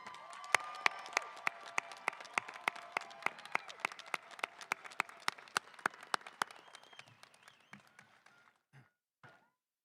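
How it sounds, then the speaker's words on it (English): Applause for faculty at a community college commencement, starting as a sparse scatter of distinct claps that thickens into steady clapping, then thins to a few isolated claps and fades out. "let's have a big round of applause for our faculty."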